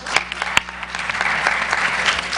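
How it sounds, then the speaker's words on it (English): Audience members at a university climate change debate break into applause, a dense burst of clapping with a few sharp, close individual claps standing out, lasting a couple of seconds without speech. "Clap."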